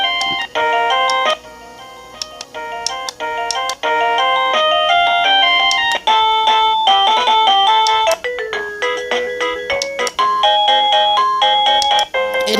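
A wireless doorbell cycling through its chime ringtones, bright electronic melodic tones playing loud and continuous, one tune after another with brief gaps between them.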